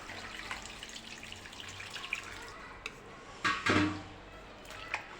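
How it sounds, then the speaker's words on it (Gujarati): Thin potato wafer slices are washed by hand in a vessel of clean water, giving quiet sloshing and trickling with a few louder splashes near the end. "આપણે તેમાં બીજું પાણી ચોખ્ખું પાણી લઈ અને બરાબર ધોઈ લઈશું"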